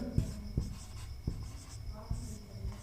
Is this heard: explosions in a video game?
no